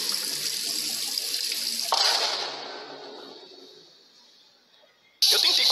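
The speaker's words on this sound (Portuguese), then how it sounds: "O jato d'água não deixava. E já tava inundando o chão do banheiro inteiro." Water gushes hard from a burst bathroom tap in a loud hissing spray, shifting into a heavier splash after two seconds, easing off, then bursting back loudly at the end.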